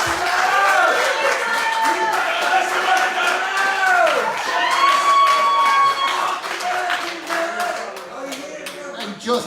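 An audience at a charity comedy night in Ballyheigue, held for Pieta House, claps and cheers loudly, with voices whooping over the clapping before it tapers off near the end.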